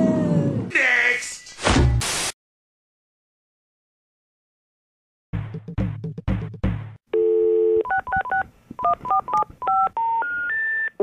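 A telephone keypad is dialed with a run of distinct DTMF beeps, preceded by a short burst of voices and a pause of silence; the tones come close and loud in an uneven sequence.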